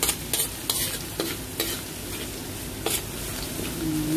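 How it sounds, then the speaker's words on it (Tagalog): Garlic frying in a pan until golden brown, a steady close sizzle punctuated by several quick stirring scrapes against the pan, with no voices. "Bawang. Hintayin mo siyang mag-golden brown."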